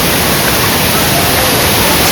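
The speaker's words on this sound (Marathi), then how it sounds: "मेन धबधबा दिसतोय, जो प्रमुख आकर्षणाचा केंद्र आहे लेणीचं" The main waterfall at the ancient Kondhane rock-cut caves near Karjat pours with heavy water pressure, making a loud, unbroken close-up roar that fills the whole moment.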